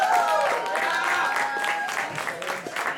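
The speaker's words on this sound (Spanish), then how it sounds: "por favor, un aplauso." Concert crowd at a brewery applauding a band, dense continuous clapping with some cheering voices mixed in, fairly loud and close throughout.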